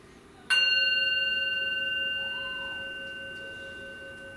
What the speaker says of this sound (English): So let me hit the bell.